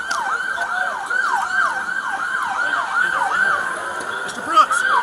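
Ambulance siren wailing in rapid repeating sweeps, close and loud over faint background traffic, with brief voices.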